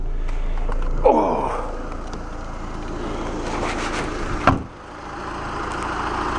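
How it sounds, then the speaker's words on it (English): A diesel Dodge Grand Caravan with a CRD TDI engine idles with a low, even, fairly quiet rumble, heard from right beside the van, with a brief breathy sound and a thump partway through. "So there's how quiet it is standing beside a diesel caravan. Sounds pretty normal."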